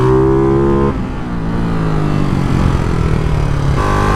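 A Ducati Hypermotard 698 Mono motorcycle with an aftermarket exhaust pipe, its single-cylinder engine revving and pulling strongly up close, the harsh, rising drone shifting pitch as the rider works through the revs.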